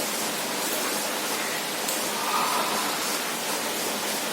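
Steady rain pours down on a rainy day in an Indian village, an even and dense hiss that stays constant and fairly loud throughout, with no voices.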